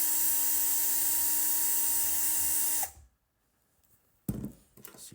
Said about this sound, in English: Or I could just ream out the hole a little bit more.